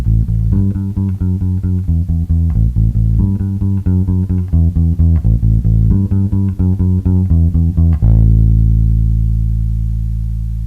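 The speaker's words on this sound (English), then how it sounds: "we're going to play it in triplets" Bass guitar plays a 1 b7 6 5 line in triplets, three plucked notes per beat in a steady loud repeating pattern, ending on a long sustained note that rings out alone.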